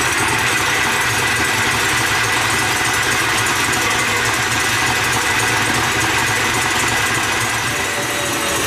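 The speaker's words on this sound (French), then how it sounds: "Donc là on va monter nos blancs en neige bien ferme." An electric mixer whips egg whites to stiff peaks for chocolate macarons, giving a loud, constant motor whir with a steady mechanical drone throughout and no speech.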